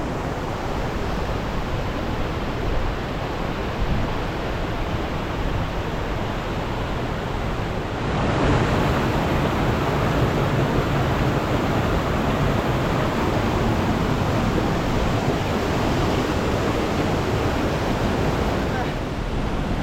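A waterfall in Pakistan roars as a steady, loud wash of falling water, swelling noticeably partway through and staying broad and continuous, with wind buffeting the microphone and no clear voices.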